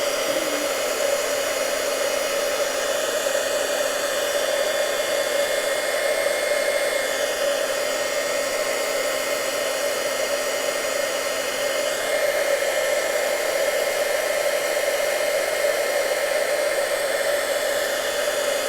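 A heat gun blows steadily and loudly over a card, melting embossing powder in a long, unbroken airy roar with a faint tonal whine that never lets up.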